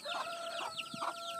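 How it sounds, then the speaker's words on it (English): Hen clucking softly beside her chicks, with short repeated clucks and faint high peeping, moderately close over a steady background hum. "And there we have another chicken and its babies."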